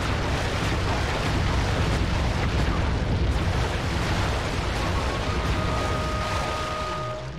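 Continuous heavy booming rumble of cannon fire and explosions in the Sly 3 video game, a dense loud barrage holding steady throughout with no gaps.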